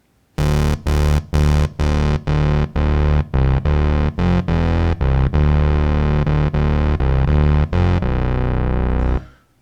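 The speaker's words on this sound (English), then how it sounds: "use the filter section of the synth to remove a little bit of the high frequencies from it" A synthesizer with its high frequencies filtered out plays a sequence of distinct, sustained notes, each with a mellowed, slightly buzzy tone, moving up and down in pitch with brief gaps between them.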